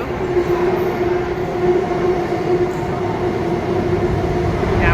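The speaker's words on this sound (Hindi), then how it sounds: "बस अब मेट्रो आस देखो" A Bangalore metro train arrives at a station, its steady loud rumble and a sustained hum filling the whole stretch, with no talking over it.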